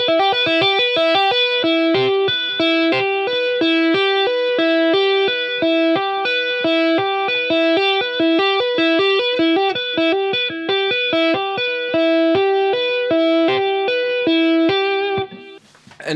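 Fast electric guitar lick through distortion and chorus effects, a rapid continuous stream of even tapped notes for about fifteen seconds, loud and alone, ending abruptly.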